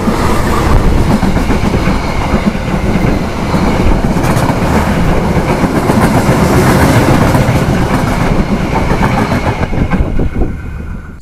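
Continuous loud rumble and clickety-clack of the Tawang Alun passenger train, double-headed by two locomotives, rolling along the tracks, heard from on board, fading away at the very end as it stops at a small station.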